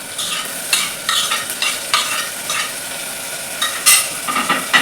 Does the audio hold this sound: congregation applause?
no